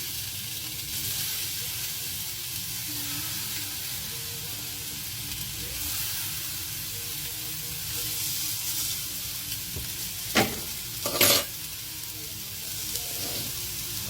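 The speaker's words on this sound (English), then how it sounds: "going to fry up some maple sausage" Maple sausages frying in a hot pan, a steady close sizzle and hiss throughout with a few brief clinks and stirring knocks near the end.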